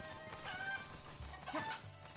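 A chicken in the video game Breath of the Wild clucks faintly in a few short squawks beneath steady game background noise.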